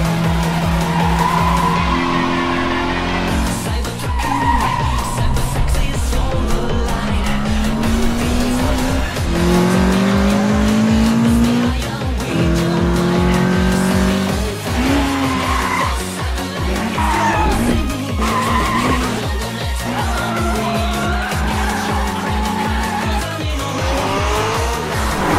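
Race cars, including a Mazda RX-7 FD with a suspected failing second turbo, scream through a mountain-pass duel in Initial D, engines roaring loudly and continuously while tires squeal and skid repeatedly, backed by music.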